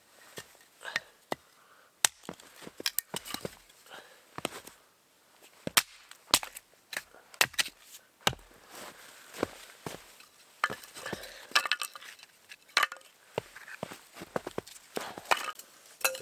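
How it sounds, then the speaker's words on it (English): Campfire burning cedar wood, crackling and popping with many sharp, irregular snaps, close by and fairly loud over a quiet background. "This is going to be super crackly and poppy because I put the cedar on"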